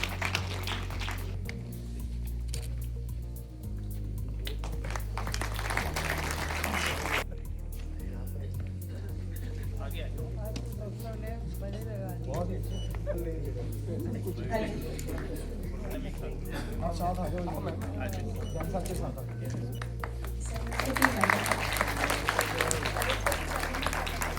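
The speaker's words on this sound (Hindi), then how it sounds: "एक जोरदार तालियों से पवन शर्मा जी को यहाँ बुलाना चाहती हूँ" Loud, sustained applause from an audience filling an auditorium at a music event, dense and continuous throughout, with a rhythmic musical backing underneath and a swell of clapping near the end.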